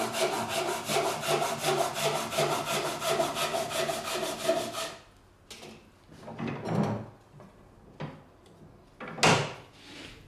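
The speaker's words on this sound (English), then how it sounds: "Third cut, diagonal from right to left and top to bottom." A Japanese hand saw cuts wood for a corner splice joint, a steady run of rapid rhythmic rasping strokes for about five seconds, followed by scattered scrapes and knocks of wood being handled.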